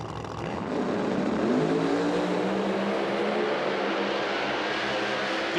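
A nitro drag racing car with an SSI Roots blower on a 521 Hemi thunders down the strip at an IHRA Outlaw Nitro event, a loud, sustained roar with rising engine tones that holds steady after a quick build, with no talk.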